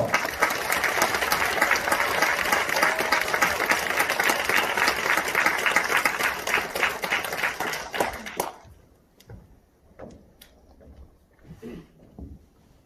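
A large audience in a university auditorium gives loud, dense sustained applause to welcome a lecturer, which then stops abruptly, leaving a few scattered claps and faint room noise.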